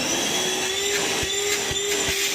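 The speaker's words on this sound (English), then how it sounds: "Let's go ahead and turn it on." A Ryobi ONE+ 18V cordless one-gallon wet/dry vacuum runs with a loud, steady whine close by, with a few soft thumps as it picks up crumbs.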